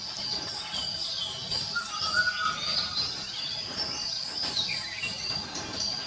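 An Indian cuckoo calls in the background of a forest in the Tadoba Andhari Tiger Reserve, its repeated whistled notes set among steady crickets, insects and other birdsong, with no talk.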